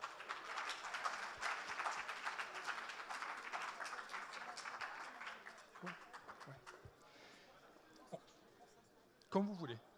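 At a conference plenary, the audience applauds a woman introduced as president of France's national digital council. The dense clapping starts loud, then thins to scattered claps and a few voices.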